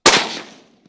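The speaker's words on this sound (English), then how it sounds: "the sound of perch flapping in the water was pierced by automatic gunfire at his makeshift firing range set along the rows of cornstalks" A single sharp gunshot-like crack from automatic gunfire at a makeshift firing range set among rows of cornstalks, loud and close, with a fast-decaying echo and no talk.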